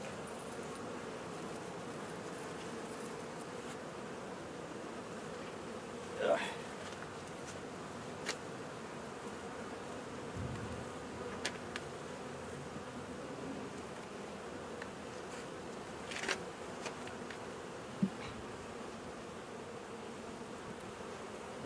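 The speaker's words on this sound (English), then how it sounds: "you can see my bees are real aggressive" Honeybees swarm around an open hive in a soft, steady buzz that hangs in the background, with a few individual bees droning close past.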